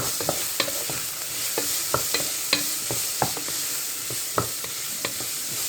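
Green pepper is stirred into bolognese sauce frying in a pan: a steady close sizzle with repeated crisp spoon knocks and scrapes against the pan at an uneven rhythm, no voices.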